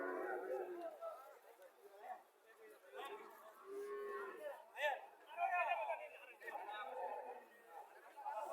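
Dairy cows at a cattle market for milking cows and calves give occasional moos beneath steady crowd chatter and close talking, the animal calls faint and mixed into the busy voices.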